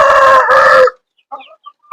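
A rooster crows loudly and close by in one long call, followed by a few soft clucks from nearby hens.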